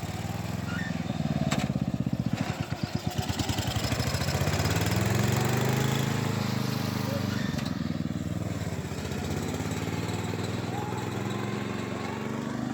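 Racing lawn tractor engine running on its first test drive, a loud, close chugging motor that pulses early then settles into a steady drone, with people talking over it.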